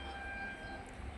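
A train stands or rolls in slowly at a station on the Shoranur route, a faint, steady low rumble with a thin sustained tone, heard from a distance without talk.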